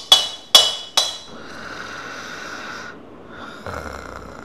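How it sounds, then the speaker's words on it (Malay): A man snores, with a few sharp knocks at the start followed by two long, rough, breathy snore rasps, close and fairly loud, with no talking. "Dengkur"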